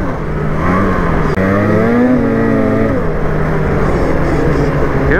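A Polaris vehicle's engine revs continuously while driving, loud and close, its pitch rising and falling through gear-like sweeps with a steady rough roar underneath and no talking.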